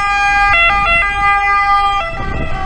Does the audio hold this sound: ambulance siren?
yes